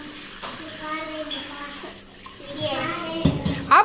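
Tap water runs steadily in a home kitchen during preparation of fish curry and prawns, with a child's and adults' voices talking over the flow.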